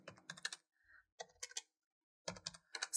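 Bursts of keyboard typing on a computer in an Ubuntu terminal, with rapid close clatters separated by short pauses and no talk.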